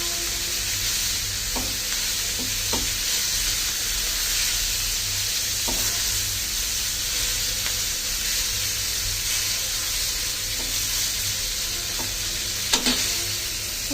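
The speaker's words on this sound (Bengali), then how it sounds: "অনেক শব্দ করছে," Boal fish frying hard in hot oil in a kadai, spattering with a loud, continuous sizzle and hiss, scattered sharp pops and crackles, no voices.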